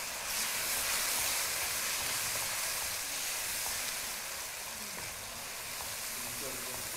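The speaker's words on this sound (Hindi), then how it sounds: "अच्छी तरह आपने इसको फ्राई करना है" Roasted eggplant frying in a pan with salt and black pepper, a steady bright sizzle and hiss throughout, easing slightly in the second half, with a voice talking faintly in the background.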